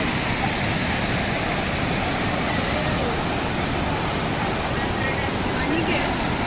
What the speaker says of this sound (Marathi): हा झरा दिसतो आहे, याला खळखळाट आपल्याला ऐकू येतो आहे